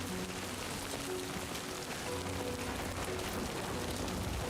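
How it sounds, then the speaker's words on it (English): Steady, dense rain hisses and patters evenly throughout in the game Death Stranding 2, a close, unbroken wash with no voices. "We got the rain effects going."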